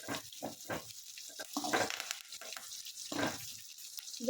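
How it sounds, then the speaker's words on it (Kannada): Greens for a honagone soppu bassaru frying in a pan until brown, a close sizzle with bursts of crackle and stirring scrapes, growing louder toward the end. "ಇದು ಬ್ರೌನ್ ಕಲರ್ ಬರೋವರೆಗೂ ಹುರ್ಕೋಬೇಕು"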